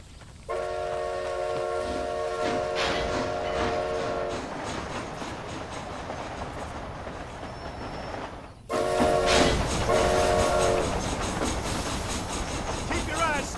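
Train in Red Dead Redemption: Undead Nightmare rolling along with clattering wheels and a sustained horn blast, a break, then the horn sounding again over steady loud rumbling.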